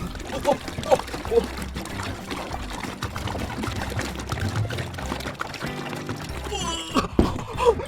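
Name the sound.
water being poured into a container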